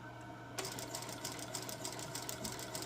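A sewing machine stitches a seam on a modern sukajan jacket, starting after a short quiet lead-in and then running in a steady, rapid mechanical patter, close and continuous without talk.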